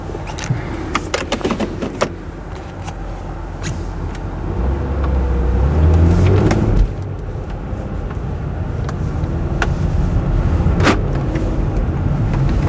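A 2009 Ford Flex fitted with a K&N intake idles while warming up from cold, a steady low engine drone close by, with a few clicks and interior handling sounds over it.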